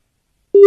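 A telephone busy tone after a dropped call on a radio prank show, one loud steady electronic beep starting abruptly after half a second of silence.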